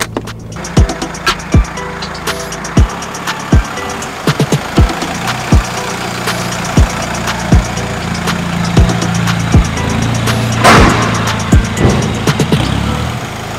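A car engine idles at a tuning workshop, a steady low hum broken by a series of sharp, regular clicks or knocks, loud and close throughout.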